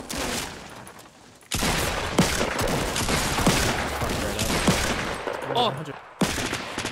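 Rapid bursts of automatic gunfire in the video game Fortnite, loud and close, cutting in and out in long rattling volleys with short gaps, while a player exclaims over them.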